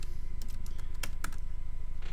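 Keys clacking on a computer keyboard during a live astronomy imaging session, a quick irregular run of close, moderately quiet taps over a low steady hum.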